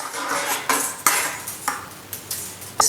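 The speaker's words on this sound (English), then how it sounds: "now I'm going to cut another piece of wire the same length" Wire for a sculpture armature is cut and handled, giving a series of about six sharp metallic snips and clicks at irregular intervals, close and fairly quiet, with no talking.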